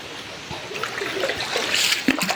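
A dog named Turi leaping into a countryside river, flowing water and splashing building toward a sharp splash near the end, heard close and alone.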